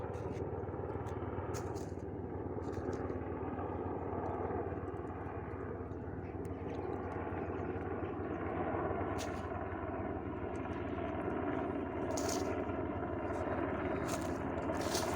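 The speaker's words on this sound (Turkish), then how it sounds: "helikopter geçiyor" A helicopter drones steadily in the distance, a low throbbing engine hum lasting throughout, with occasional faint clicks and ticks nearby.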